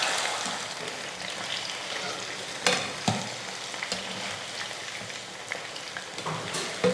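Chicken chilli frying in hot oil, a steady close sizzle and crackle with occasional sharper pops and stirring clatters, no voices.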